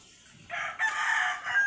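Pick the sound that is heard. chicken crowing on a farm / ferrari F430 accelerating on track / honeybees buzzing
chicken crowing on a farm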